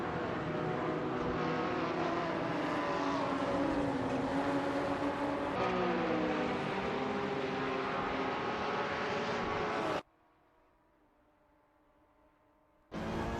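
GT4 race cars, including a Ginetta, howl around the Weatherfield circuit in a racing game. Layered engine notes rise and fall as they pass, then cut to near silence before returning abruptly.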